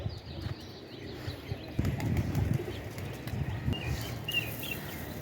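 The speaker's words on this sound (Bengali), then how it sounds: "প্রায় 1-150টা পায়রা প্রত্যেক দিনই আসে" A morning flock of pigeons, around a hundred birds that come daily, gives soft cooing and scattered wing flaps and chirps, steady and moderately close, with no talking.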